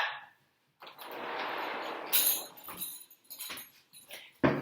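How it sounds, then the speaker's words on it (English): A pet dog whimpers and scrabbles indoors in a quiet room, with faint intermittent whines and pattering close by, no music playing. "Sorry, that's my dog."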